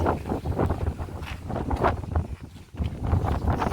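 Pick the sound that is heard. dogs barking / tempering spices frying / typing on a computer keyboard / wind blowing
wind blowing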